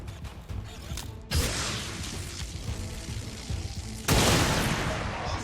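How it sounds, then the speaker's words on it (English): A blaster bomb goes off in the tactical game XCOM 2: War of the Chosen, with a sudden loud blast followed by rumbling debris, then a second heavy boom near the end, all close and forceful. "we'll toss out a blaster bomb instead"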